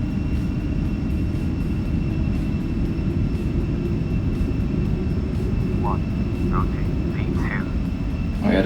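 Airliner engines roaring steadily through a takeoff roll in the X-Plane 11 flight simulator, a dense continuous drone that holds level throughout, with a few faint rising chirps near the end.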